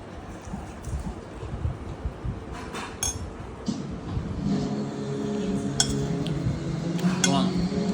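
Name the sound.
mixing with utensils in a dish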